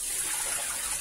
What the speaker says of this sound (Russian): Еще разочек солью воду.